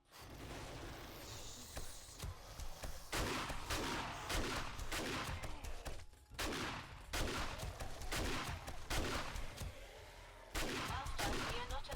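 Automated turrets in the video game 7 Days to Die firing rapid volleys at a tier 6 school location, repeated sharp gunfire bursts across the whole stretch with brief gaps between them.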